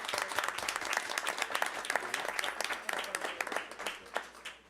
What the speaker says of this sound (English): I just want to give her a round of applause for stepping up.